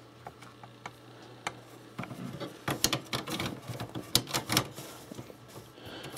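Ink cartridge dropped into and clipped into a Canon Pixma MX420 printer: sparse small plastic ticks at first, then a denser run of close, crisp clicks and snaps with a low steady hum underneath.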